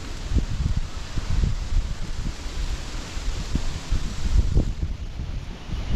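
Wind blowing through a forest, a steady broad rushing noise with gusty buffeting against the microphone and low irregular thumps, close and continuous, with no talking.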